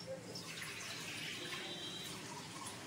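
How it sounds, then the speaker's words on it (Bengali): Rice being rinsed under a running tap in a home kitchen, a steady close wash of water with soft swishing throughout, broad and continuous without pauses. "এবার চালটা ধুয়ে নিচ্ছি"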